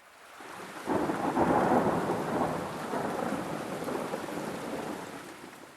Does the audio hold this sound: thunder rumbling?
yes